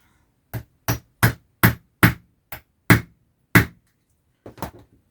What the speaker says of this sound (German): Und dann müsst ihr das Ganze nämlich hier vernieten.